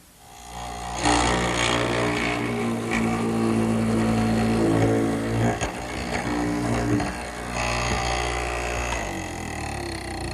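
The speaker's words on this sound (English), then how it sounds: "Okay, now to the mortising machine." A mortising machine in a woodworking shop drives its drill bit into wood to cut square holes for a turned post bed, giving a steady, loud motor roar with harsher surges of cutting throughout.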